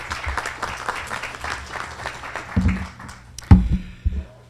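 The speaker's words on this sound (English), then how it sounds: "Please give him a round of applause." An audience applauds a speaker at a community event, a short spell of clapping fading in and out, with a few louder thumps near the microphone toward the end.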